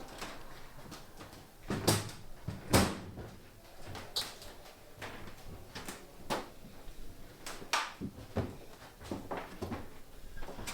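The airframe of an old, restored C-47 that flew on D-Day creaks and knocks inside the cabin, with irregular sharp creaks and thumps spread over a quiet background.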